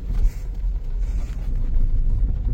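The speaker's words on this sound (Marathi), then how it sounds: "आधी गाडी पार्क करून घेऊया" A car idles and rolls at low speed while being parked at the Balaji temple at Rajur Ghat, Buldhana, giving a steady close engine rumble with no talking.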